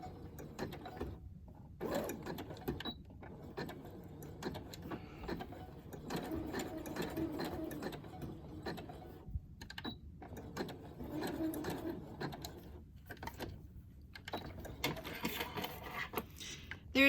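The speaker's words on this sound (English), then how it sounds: "you can start sewing up this side now" A sewing machine stitches a seam in fabric, its mechanical chatter running steadily for much of the span and broken by short pauses between sewing bursts.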